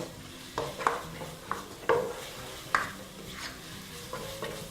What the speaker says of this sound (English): Just going to give that a quick mix, and I'm going to turn my heat back to high.